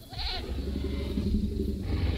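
A goat bleats in Jurassic World Evolution, a wavering call heard over a low, steady rumble of game ambience with no talking.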